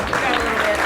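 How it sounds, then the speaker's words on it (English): Applause from a show-ring audience as exiting contestants leave the ring, a brief burst of dense clapping with a voice talking over it. "let's give all of them a big round of applause as they exit the ring"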